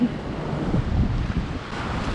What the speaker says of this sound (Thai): คลื่นแรงมากอะ่ะ